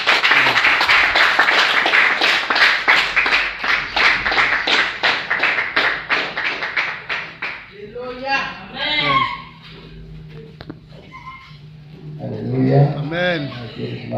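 A church congregation claps in a steady, fast rhythm to acclaim the Lord, loud and sustained at first, then fades as voices and cheering take over.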